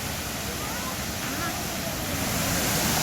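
A steady wash of water from Vattai waterfall, among big rocks near a quarry, sounds broad and fairly loud. It swells a little toward the end, with a touch of wind on the microphone.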